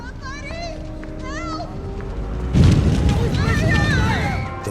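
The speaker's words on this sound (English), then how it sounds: "The fire on this one was almost 3 times as big as the first one." A practical fire explosion effect goes off on the set of the Spider-Man 2 film, a sudden loud boom midway that roars on, with voices and high whistling sounds before and during it.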